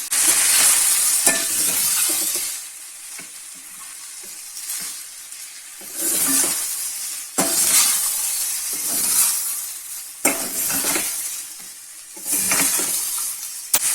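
Chicken garlic mushroom fried rice being stirred and tossed in a frying pan, with repeated scraping strokes over a steady sizzle, fairly close and loud, no talking.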